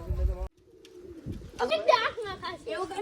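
Pigeons coo in soft low bursts near a pigeon loft where a trained pigeon is being handled, with people talking over much of the sound after a brief pause.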